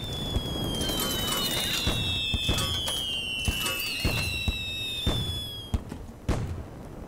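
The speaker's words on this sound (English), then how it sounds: "This is gonna make a giant explosion!" Crackling, popping bursts and thuds from a large burning explosion in the video game Little Inferno, scattered over several seconds with whistling tones sliding overhead, moderately loud and without speech.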